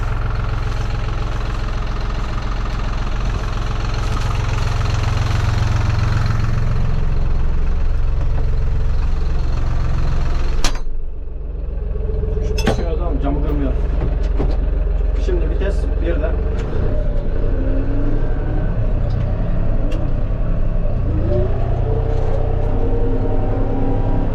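A Deutz tractor engine runs steadily in a corn field, a loud, constant low rumble throughout with a brief dip near the middle, and someone talks over it.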